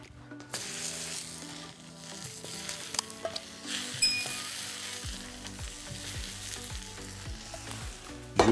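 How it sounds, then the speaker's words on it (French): Endives sizzling in olive oil on a seafood brasero plancha, a steady bright hiss with occasional clinks and scrapes from the cooking, close and without talk. "je vais ajouter mes endives sur ma plancha afin qu'elles puissent cuire également"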